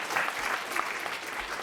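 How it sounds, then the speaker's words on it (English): Audience applause fills an auditorium at NASA Goddard's Hubble Auditorium during a keynote, a steady wash of many hands clapping at moderate loudness with no talk over it. "So just a round of applause, please,"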